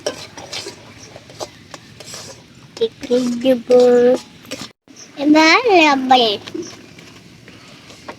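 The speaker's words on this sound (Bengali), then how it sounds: "এবার আমি বাটার দিয়ে মশলাটাকে আরেকটু ভাজা ভাজা করে নেব।" A spoon stirs spice paste frying in butter in a pan for a paneer posto dish in a village kitchen, scraping and faintly sizzling under loud voices of an adult and someone talking nearby.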